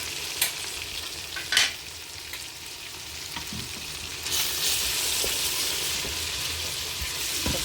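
Spices of ground chilli, salt, crushed red pepper, turmeric and dried coriander being stirred into maash daal in a pan, with a steady low sizzle and a few sharp scraping knocks of the spoon against the pan.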